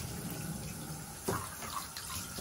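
Shower water runs steadily while a dog is bathed, a soft continuous hiss and splash with a brief louder spatter partway through, fairly faint and with no talking.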